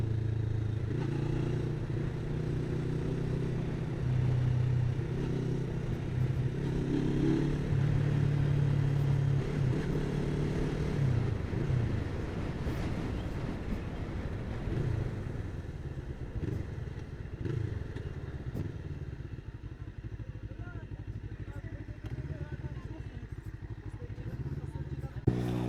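A Rusi Cyclone 400 motorcycle rumbles along on a ride with a steady low engine drone and wind noise, and a voice talks over it at times.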